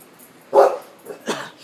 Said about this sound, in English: Everyone's favorite dog, Reno.